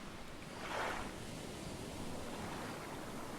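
Boat gliding over ocean waves in Stranded Deep, with a soft continuous wash of surf and wind, one brief swell of water rushing past early on, faint and steady with no talking.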